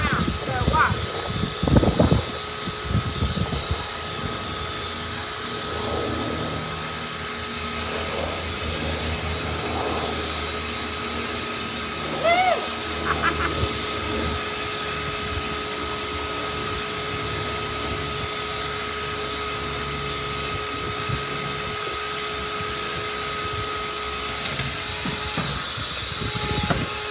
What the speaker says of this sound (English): My shop vac, okay?